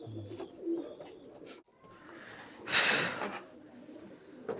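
Teddy pigeons imported from Oman coo softly a few times nearby, low throaty calls, followed by a brief burst of rustling or fluttering noise.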